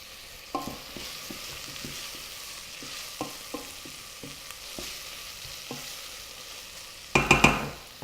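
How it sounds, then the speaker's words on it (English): Creme fraiche being stirred into a fish, tomato and fennel soup in a pot, with soft scattered spoon scrapes and light taps over a quiet simmer, ending in a brief louder clatter. "So I'll just mix that in."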